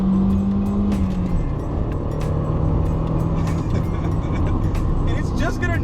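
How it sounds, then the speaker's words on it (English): A Mazda daily driver's engine revs out after a downshift, a loud, steady rising drone with whining tones close to the microphone, under continuous road and cabin noise. "And the engine noise is very good for what you're getting."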